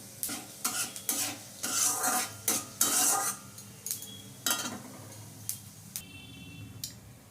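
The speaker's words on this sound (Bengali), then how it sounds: "এখানে জিরে, শুকনো লঙ্কা আর তেজপাতা ফোড়ন দিয়ে দিচ্ছি।" Cumin, dried chilli and bay leaf tempering in hot oil, a close crackling sizzle broken by repeated scraping stirs of a utensil against the pan in uneven bursts.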